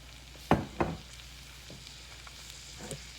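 Vegetable stir fry of green beans, carrots, mushrooms, onions and small red peppers in a skillet: two sharp knocks and scrapes up front, then a quiet steady sizzle with an occasional light stir.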